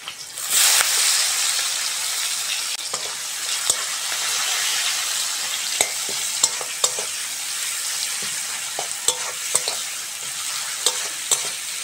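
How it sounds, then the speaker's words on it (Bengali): Chopped onion frying in hot oil, a loud continuous hiss and sizzle with a sharp surge early on, then steady crackling broken by scattered spatula taps and scrapes, with no talk. "পেঁয়াজটা ভালো করে ভেজে নিয়েছি"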